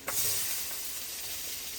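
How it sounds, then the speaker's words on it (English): Vegetables sizzle steadily in a hot Presto electric foldaway skillet, a soft continuous crackle and hiss that follows a brief stirring sound at the start. "I love the sizzle sound"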